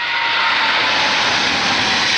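A General Electric GE90 jet airplane engine gives a loud, steady, broadband roar with a hissing rush, continuous and close throughout without any change in level.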